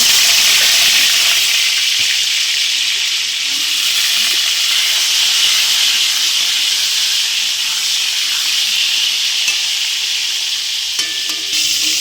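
Pointed gourd (potol) frying in salted oil in a kadai gives a steady, loud, close sizzle and hiss that runs unbroken for the whole stretch, with a few faint stirring scrapes and no talk.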